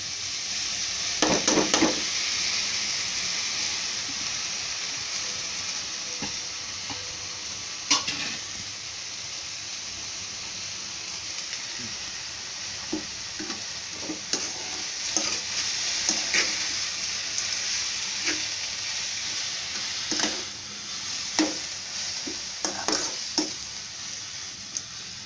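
Fenugreek leaves and moong dal cooking in a pan, a steady soft sizzle throughout with occasional sharp clinks and scrapes of a spoon stirring against the pan, close and alone without talk.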